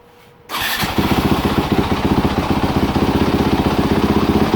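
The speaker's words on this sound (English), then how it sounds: "Fires up good now with no choke, no nothing. Goes right to its idle." A 2019-2023 Yamaha YZ250F dirt bike engine fires up abruptly after a quiet moment and settles straight into a loud, steady, rapidly pulsing idle close by.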